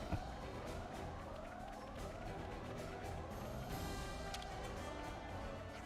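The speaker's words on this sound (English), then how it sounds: "That siren means it's time for an emergency assembly." An alarm siren in Xenoblade Chronicles sounds for an emergency assembly, a repeating rising wail, fairly faint and continuous with no voices.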